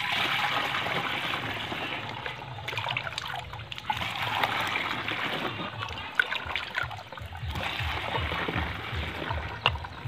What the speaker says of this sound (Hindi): और दोस्तों अब इसमें डालेंगे पानी।